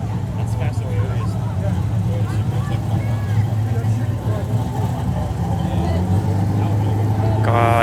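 A Toyota Supra sports car engine rumbles low and steady at a crowded Mustang Week car meet, with people talking over it throughout.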